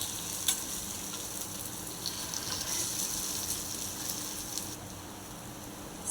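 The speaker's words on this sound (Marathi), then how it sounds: "दुसरी बाजू सुद्धा सोनेरी रंगावर भाजून घेतली" Potato and sabudana tikki shallow-frying in ghee in a pan, giving a continuous dense sizzle with fine crackles, steady and close, with no voices.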